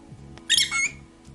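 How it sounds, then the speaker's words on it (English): A yellow-collared lovebird, a small parrot, gives one shrill squawk lasting about half a second, close and loud over a faint steady background hum. "the yellow-collared lovebird that can be found in Eastern African countries such as Tanzania and Kenya"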